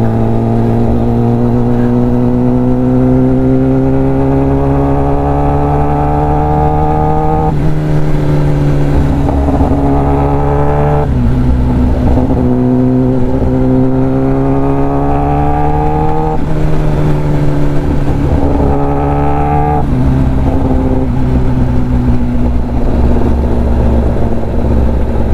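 A 2020 Kawasaki ZX10R motorcycle ridden over a potholed road, its engine loud and close, revving up and easing off repeatedly in rising and falling sweeps.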